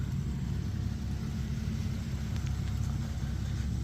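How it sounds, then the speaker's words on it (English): Infiniti FX37 fitted with an Invidia Gemini catback exhaust running, a steady deep low-frequency exhaust rumble at close range, continuous and even throughout with no talking. "I'm really enjoying this exhaust and I wanted you guys to hear it."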